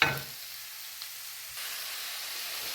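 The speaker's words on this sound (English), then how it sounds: "all I've been doing is stirring this around and smushing it down in there and letting that zucchini and the yellow squash cook a little bit" Zucchini and yellow squash sizzle steadily in a hot pan while being stirred, with an opening clatter of utensil, then a constant close hiss that swells slightly partway through.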